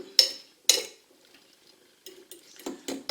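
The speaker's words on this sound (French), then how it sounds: "On donne un petit coup de mélange." Red cabbage salad with apple, walnuts and lardons tossed in a bowl, two sharp utensil clinks followed by a quiet pause and then a flurry of soft scraping and knocking strokes, close by.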